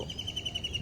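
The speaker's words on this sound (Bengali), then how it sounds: "পাখিদের কিচিরমিচিরের শব্দ" Faint, steady high chirping from birds in the distance, a brief outdoor snatch with no voices.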